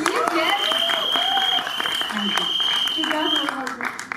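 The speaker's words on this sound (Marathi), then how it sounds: "माझ्यासाठी एकदा टाळ्या वाजवा गाईस प्लीज" Audience applause at a Marathi movie song celebration event, steady clapping throughout with a sustained tone and voices layered over it.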